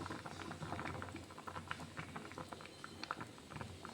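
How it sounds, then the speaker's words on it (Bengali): A pot of milk mixture for dudh puli pitha, a sweet Bengali rice dumpling dish, simmers with soft, continuous bubbling and popping that stays faint and close, with no voices. "এর উপরে দেখুন একটু ফুটতে দিতে হবে, 10 মিনিট মতন ফুটবে।"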